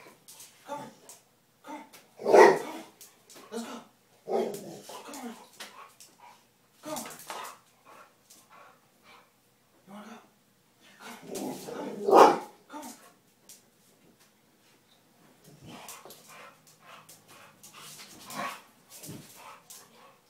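A dog barks in scattered loud bursts with softer whimpers and yips between them, close by, mixed with people talking.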